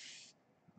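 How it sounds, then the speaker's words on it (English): A spray bottle mists water onto a sumi ink painting in two quick, soft hissing bursts, one at the start and one at the end, close by and quiet with no talking. "Spray a little more."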